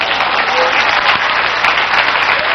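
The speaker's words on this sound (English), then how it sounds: "Clap your hands, somebody." A church congregation claps its hands in a dense, continuous burst of applause that stays steady and fairly loud for a couple of seconds.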